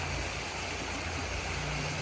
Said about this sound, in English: the water you hear rushing is here